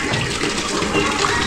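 Plates being washed under running water from a tap, a steady broadband splash and gush that runs the whole time, with voices talking over it.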